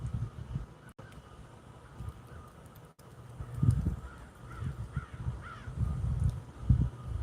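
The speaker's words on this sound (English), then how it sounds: "I want y'all to hear the crows in the background" Several crows caw intermittently at a moderate distance, with clustered calls growing louder toward the end over a low rumbling background of wind and ambient noise; no one speaks.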